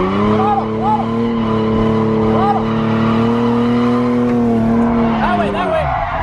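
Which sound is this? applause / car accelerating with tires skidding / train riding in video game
car accelerating with tires skidding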